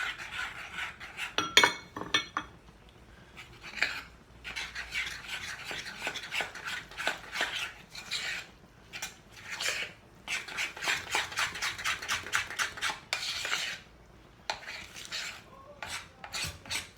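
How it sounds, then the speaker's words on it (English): A big spoon stirs milk into dumpling dough in a bowl, producing repeated close rasping and scraping strokes in uneven bursts with brief pauses, with no talk. "Let's just stir it, mix it in slowly."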